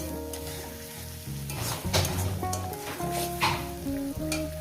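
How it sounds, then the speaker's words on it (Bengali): Egg curry with raw tomato and coriander leaves being stirred in a pan, a steady sizzle with scraping stir strokes running throughout, close and fairly loud, with background music and no talking. "ধনে পাতাটা দিয়ে হয়তো তিরিশ সেকেন্ড কি এক মিনিটের জন্য এটা একটু নাড়াচাড়া করবো"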